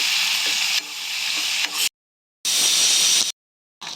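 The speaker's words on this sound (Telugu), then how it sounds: "ఇది మటన్ ఎండింది కాబట్టి కొద్దిగా టైం తీసుకుంటుంది అందుకోసం అనేసి ముందుగా మటన్ అయితే ఫ్రై చేసుకుంటున్నాను" Dried mutton pieces fry in a pan with a steady, bright sizzle, close and fairly loud, broken by two short silent gaps and faint stirring knocks.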